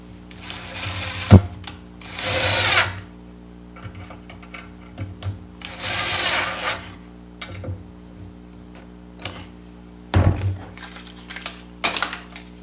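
A power drill with a Phillips bit drives screws to fasten D-rings onto the back of a 3D wooden waving flag, sounding in several short, loud whirring bursts separated by pauses and small clicks of handling.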